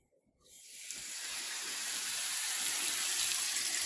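Pot roast meat hits hot oil in a pan on the stove and starts searing, a sudden sizzle that swells into a steady loud hiss after a moment of quiet.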